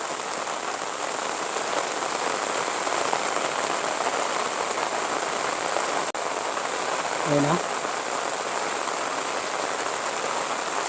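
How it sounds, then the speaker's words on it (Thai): Steady rain falls over rural farmland in Isan, Thailand, a dense, even hiss that continues throughout, broken only by a single sharp knock and a brief low thump partway through. "บรรยากาศฝนตก"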